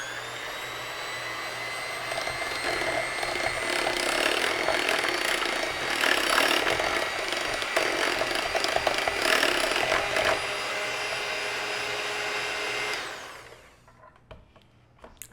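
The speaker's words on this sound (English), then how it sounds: "blend on slow." A blender runs on low speed mixing homemade ranch-flavored mayonnaise, a loud, steady motor whir with a churning edge for about thirteen seconds before it shuts off and winds down.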